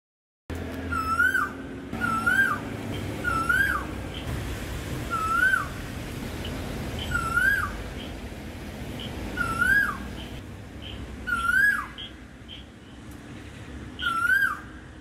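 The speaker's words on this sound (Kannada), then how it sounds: "ಈಗ ಒಂದು ಕೋಗಿಲೆಯ ಹಾಡನ್ನು ಕೇಳಿ." A cuckoo sings a repeated two-note whistled call, about eight clear phrases spaced at a steady rhythm, mid-distance over a quiet outdoor background with no talking.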